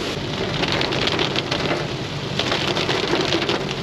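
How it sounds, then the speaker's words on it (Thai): Heavy rain drums steadily on a car while driving toward Pha Taem, a dense, loud, unbroken hiss of raindrops on the roof and windshield with no speech. "ฝนเอาเรื่องเลยครับทุกคนนะ"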